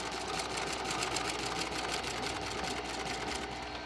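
A sewing machine runs steadily for several seconds, stitching along a folded edge of a tuck-and-roll seat cover for a 1947 Ford, a continuous close whirring hum with no talk.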